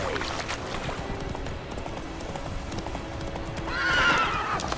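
Horse hooves clip-clop at a steady gallop in the Witcher 3 video game, with a short whinny rising near the end over a continuous ambient game backdrop.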